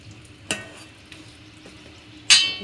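Sandwich dhokla batter being stirred in a metal pot, a soft scraping bed broken by a few sharp clinks of the spoon against the rim, the last strike loudest and lingering briefly.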